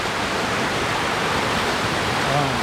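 Bearden Falls, a lower-elevation waterfall around 2,400 feet in Blue Ridge WMA, North Georgia, pours with a steady, unbroken broadband rush that holds at an even, loud level throughout, with no other distinct sounds standing out.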